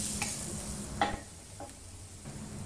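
Onion frying in spice-flavored oil for a cabbage side dish, a soft steady sizzle with a few light spoon scrapes against the pan, close and fairly quiet, no voices.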